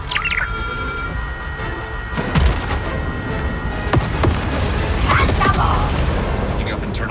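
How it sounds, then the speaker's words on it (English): Explosions in the Star Wars Outlaws video game thud as a few sharp, heavy booms, mixed with chirpy electronic sound effects while characters talk. "Picking up internal explosions."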